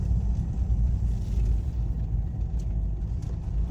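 A car rolls slowly onto a narrow back road in rural Tennessee, its steady low engine and tire rumble filling the cabin at close range without a break and with no voices.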